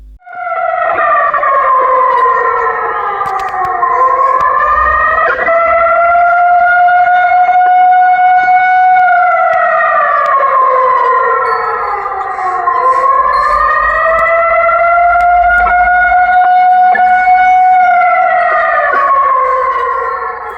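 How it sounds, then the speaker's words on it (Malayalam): A civil defense siren wails during a mock drill at a school relief shelter in Paravanna, Malappuram, Kerala, its loud tone rising and falling in long, slow cycles that repeat steadily, with no voices. "മോക്ക് ഡ്രില്ലിൻ്റെ ഭാഗമായി പറവണ്ണ GMUP സ്കൂളിലെ ദുരിതാശ്വാസ അഭയകേന്ദ്രത്തിലും സൈറൺ മുഴങ്ങി."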